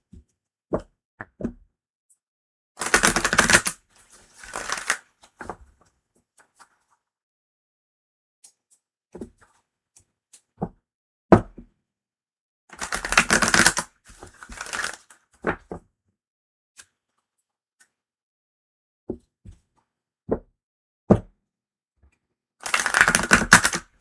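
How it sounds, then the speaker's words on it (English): Tarot and oracle cards are shuffled in short bursts of brisk riffling, three main flurries separated by quiet gaps and scattered single taps and clicks, close and fairly loud with no voices. "That just means it needs to be shuffled more."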